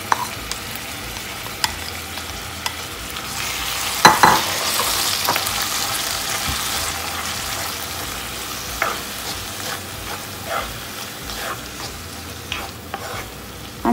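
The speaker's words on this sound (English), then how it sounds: "I'm going to saute them." Tiny shrimps sautéing in a hot pan, a steady close sizzle with occasional clinks and scrapes of stirring and a brief louder burst early on, no talk.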